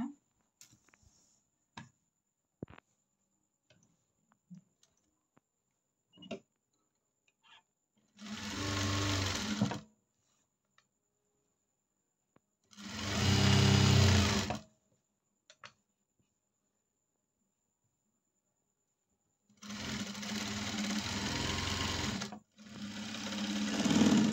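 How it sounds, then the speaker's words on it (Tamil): A sewing machine back-stitches a blouse for Arya (embroidered) work in four separate loud bursts of rapid whirring stitches. Quiet ticks and handling clicks fill the pauses between them. "பேக்கு ஸ்டிச்சிங் போட்டு முடிச்சாச்சுங்க"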